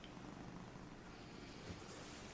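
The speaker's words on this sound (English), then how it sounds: "Might be able to hear the cat purring." A cat resting on a person's lap purrs in a very quiet, steady low rumble that continues without a break, close but faint.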